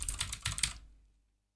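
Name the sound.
typing a search on a computer keyboard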